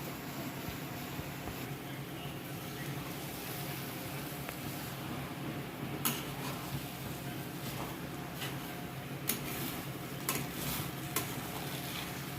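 A spoon steadily stirs grated raw mango and melting jaggery in a pan over a low flame, giving a soft, continuous sizzle with occasional light scrapes against the metal.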